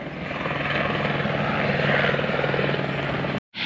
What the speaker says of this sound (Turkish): Arkadaşlar bakın şu anda helikopter iniyor.